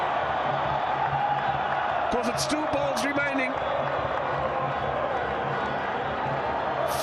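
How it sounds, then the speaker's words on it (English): Cricket stadium crowd at a T20 last-over finish roars in a steady, dense wash of cheering and celebration, loud and continuous throughout, with a commentator talking over it. "the crowd are starting to celebrate"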